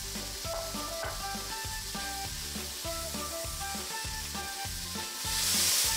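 Vegetables sautéing in a pan, a steady close sizzle under rhythmic stirring, with a brief louder hiss of steam near the end, no talk.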